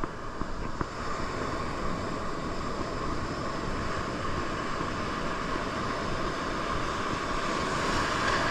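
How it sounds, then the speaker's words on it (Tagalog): Large ocean waves at high tide on a shore, a steady broad roar of surf with wind, continuous and moderately loud throughout, with no voices. "Malaki bigla ang mga alon."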